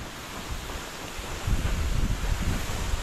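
A modest waterfall pours down behind a cliff amid a coffee plantation after rain, producing a steady broadband rush of falling water that swells slightly louder partway through, with no voices.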